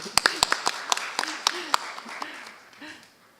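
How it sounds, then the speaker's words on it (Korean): A handful of scattered hand claps from a seated audience at a panel discussion, sharp and fairly close, fading out after a couple of seconds while a voice talks over them. "박수 한번 보내주십시오."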